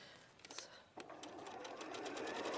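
A sewing machine stitches fabric pieces together for an appliqué project, its motor whirring in a rapid, even run that steadies and continues close by at a fairly quiet level.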